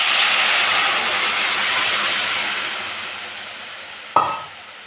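Radish sambar sizzling in a pan, a steady loud hiss of frying that slowly fades, then a brief sharp clink of a utensil near the end, with no talk.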